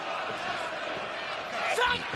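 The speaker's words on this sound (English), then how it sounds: "Manchester crowd cheering for the Newcastle native Pac" Manchester wrestling crowd at an AEW Dynamite show cheering for Newcastle native Pac, a steady crowd roar that swells near the end with a sharp slam-like hit, under a commentator's voice.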